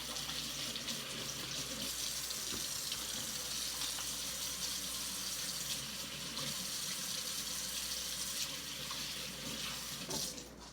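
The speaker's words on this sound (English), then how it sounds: "now I'm going to be washing my hands so I get all that meat off" A kitchen tap runs steadily as hands are rinsed clean of raw ground beef, a continuous close splashing rush of water into a sink with no speech.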